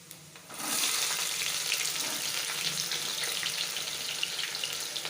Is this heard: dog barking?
no